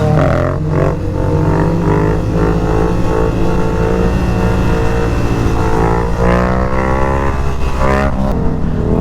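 A Yamaha R7 motorcycle engine runs loud and close, its steady drone rising and falling through several revs over continuous road noise, with no talk.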